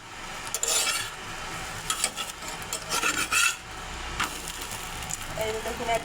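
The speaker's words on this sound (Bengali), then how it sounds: "এখন পরোটা ভেজে নেব।" A beet and potato stuffed paratha cooks in a pan, with a low background hiss and repeated bursts of scraping and rubbing from a spatula pressing and turning it.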